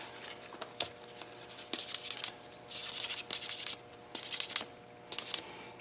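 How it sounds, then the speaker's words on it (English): Dry, scratchy rubbing of a white buffing block in repeated close strokes of a few seconds each, separated by short pauses, over a faint steady hum. "now the white side for the final buff"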